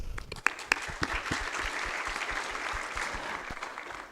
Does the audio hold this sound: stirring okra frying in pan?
no